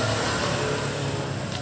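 A Honda Click 125 scooter engine drones steadily close by, a continuous motor hum that holds for under two seconds, with no one speaking over it.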